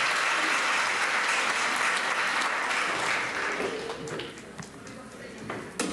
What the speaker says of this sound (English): to a big round of applause.